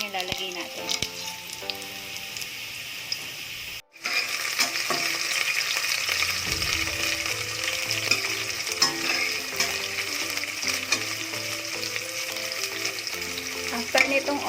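Garlic browning and then onion frying in a pan, a steady close sizzle that drops out briefly after a short pause and resumes fuller, with faint stirring and some background tones underneath.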